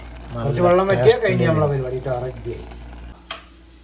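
Garlic and mustard seeds are tempered in hot oil for Kerala avial: a soft, steady sizzle runs beneath a person talking, then briefly stands out alone with a faint scrape near the end.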